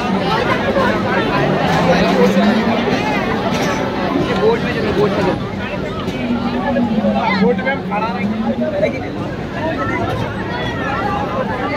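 A large crowd murmurs in dense, steady babble across the Santiniketan Poush Mela fairground, near and far voices blending, while one person talks close over the din.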